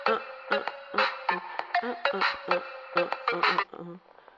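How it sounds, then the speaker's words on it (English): A phone ringtone plays a bright, bouncy melody of short repeating tonal notes in a quick rhythm, fairly faint and alone, fading out at the end. "there goes my ringtone again."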